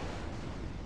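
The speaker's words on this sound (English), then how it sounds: "Missile fired." A missile launch and explosion in a real-time strategy game battle with rocket shuttles, a short, dense, rumbling blast with no speech.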